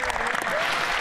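Applause fills the House of Commons chamber during a heated parliamentary exchange, a dense, steady wash of clapping from many members lasting about a second, loud and continuous with faint voices underneath.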